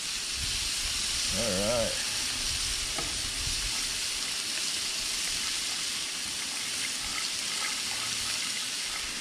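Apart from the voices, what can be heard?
walleye frying in butter on a Blackstone griddle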